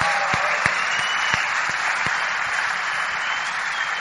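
A crowd gives a strong round of applause for the Amway Corporation at a business event, a continuous wall of clapping that stays even and close throughout.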